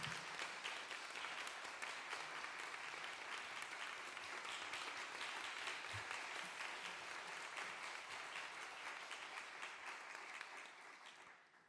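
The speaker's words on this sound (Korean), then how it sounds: "우리 나오실 때 따뜻한 환영의 박수 해주시기 바랍니다." A church congregation gives a warm welcoming applause for a visiting missionary, dense steady clapping that holds for about ten seconds and then fades away.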